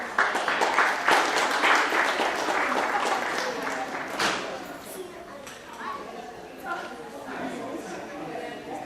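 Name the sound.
audience applause for classes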